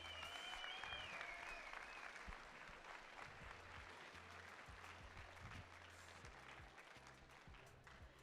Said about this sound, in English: So please give a huge round of applause for all of our volunteers.